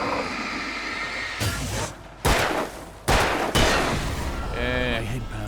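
Gunshots ring out in the Alan Wake video game, several loud sharp blasts fired in quick succession over tense ambient game sound, followed by a brief electronic tone.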